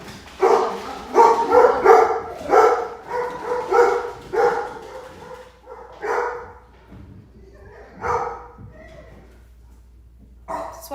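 Several dogs bark in repeated bursts, loud and fairly close, with yips and a few whimpers mixed in, the barking thinning out toward the end before one last bark.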